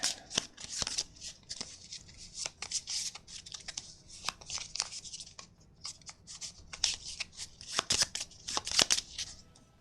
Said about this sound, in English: And then shuffle them all together.